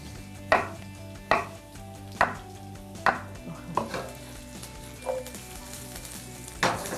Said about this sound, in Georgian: კიტრსაც იგივენაერად ვჭრით.